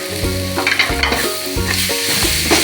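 Curry leaves and spices sautéing in a pan for vegetable salna give a steady close sizzle and fry, with stirring scrapes and clinks running throughout and no talk.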